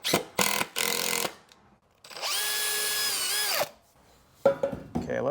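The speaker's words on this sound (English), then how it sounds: "now I'm going to pre-drill a hole. I don't want this wood splitting on me, so we're pre-drilling everything." Power drill pre-drilling a pilot hole in wood during cab stabilization work on a rusty vehicle: a sustained, loud, steady whine lasting over a second, preceded by short bursts of drilling and followed by faint handling noises.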